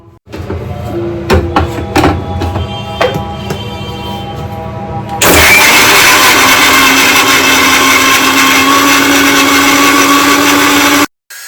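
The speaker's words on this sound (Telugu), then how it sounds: "అల్లం వెల్లుల్లి జీలకర్ర పెట్టి మిక్సీ పట్టుకుంటే ఎప్పుడైనా సరే" A kitchen mixer grinder grinds ginger, garlic and cumin into paste, starting after a few clanks of the jar and lid, then running loud and steady for about six seconds before cutting off abruptly.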